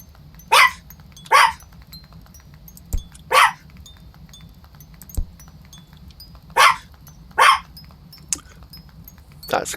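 A dog in the video game AtomCraft barks five or six times in short sharp bursts, loud and close, unevenly spaced over a low steady hum, with a few faint clicks between and no talking.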